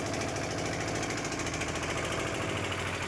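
A boat's engine runs steadily on deep water, a loud continuous rattling drone with a low throbbing pulse, close by and unbroken, with no voices over it.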